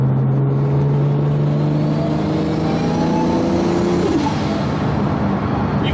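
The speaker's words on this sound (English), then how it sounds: "You can hear that road noise." Steady loud road roar from inside a moving Toyota Supra with extra turbo boost, with a low engine hum that shifts in pitch, continuous and without talk.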